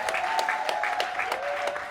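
An audience claps steadily at a women mayors' association visit in Nkongsamba, Cameroon, a dense patter of hands sustained throughout with a faint tone running beneath.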